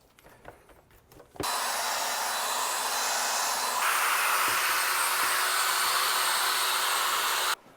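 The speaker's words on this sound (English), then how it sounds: "And then take your drill or your pad." After a few soft knocks, a power drill with a polishing pad starts up and whirs steadily as it buffs a Pontiac Solstice headlight, pitch shifting slightly midway, then stops abruptly.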